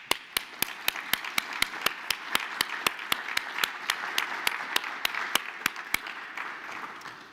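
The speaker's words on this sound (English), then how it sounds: "let's just applaud at that stage" An audience at a TU Dresden inaugural lecture applauds new members of the university community, with a steady, evenly spaced run of sharp, close claps standing out over a softer background of general clapping that fades near the end.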